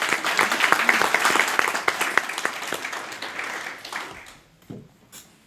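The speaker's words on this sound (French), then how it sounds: "On l'applaudit bien fort." At a book launch about Walloon folk marches, an audience claps for about four seconds. Dense, fairly loud applause thins out into a few scattered final claps.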